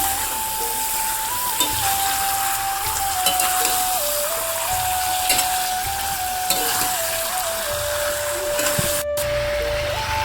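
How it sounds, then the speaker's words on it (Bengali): Meat fried and stirred in hot oil with spices, a loud, continuous close sizzle with occasional scraping of the spoon, under a steady whining hum. "মাংসগুলো দিয়ে আমি ভালো করে নাড়িয়ে নেবো, ওর সঙ্গে একদম কষিয়ে নেবো"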